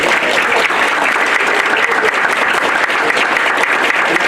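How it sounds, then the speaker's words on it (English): A convention audience claps in a loud, dense, sustained round of applause that holds steady throughout. "Let's give a big, huge round of applause."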